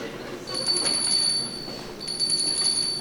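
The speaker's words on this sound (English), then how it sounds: "I found this cool bell." A small bell rings with high, clear tones in two bursts, heard during a youth stage production of Peter Pan.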